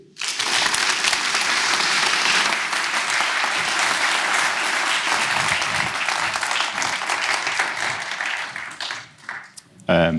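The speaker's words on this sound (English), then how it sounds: "So please give a warm applause to David Shrigley." Audience at an artist talk with David Shrigley at Kunsthal breaks into loud, sustained applause that fills the room for about nine seconds, then thins out into scattered claps near the end.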